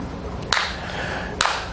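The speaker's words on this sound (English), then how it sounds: "And management was clapping" Two sharp, separate claps about a second apart, fairly near, with no talk over them.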